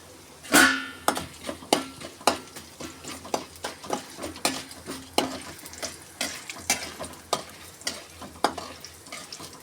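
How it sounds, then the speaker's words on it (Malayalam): Chana dal and urad dal roast in a hot pan with a steady sizzle, while a spoon scrapes and stirs in regular, close strokes about once a second. "ഇപ്പോൾ ഞാൻ ഇതിലേക്ക് ചേർക്കാൻ പോകുന്നത് കടലപ്പരിപ്പ് ഉഴുന്നും പരിപ്പ്. നന്നായിട്ടൊന്ന് മൂത്ത് വരട്ടെ."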